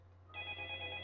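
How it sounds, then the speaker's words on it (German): A telephone starts ringing partway through, a steady electronic tone sounding softly over a low hum in a quiet room. "Das Telefon klingelt auch schon."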